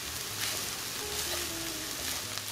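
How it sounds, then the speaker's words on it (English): Vegan soy crumbles sizzle and fry steadily in a pan for a Mexican-style meat substitute, with a continuous close frying hiss and occasional soft stirring scrapes, no voices. "I'm still here stirring periodically"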